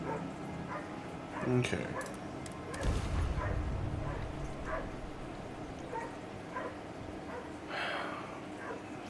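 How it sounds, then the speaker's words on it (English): A dog gives a few short yips and whimpers during a Starfield gaming session, faint and mixed under game audio with a brief spoken word. "My dog's freaking out."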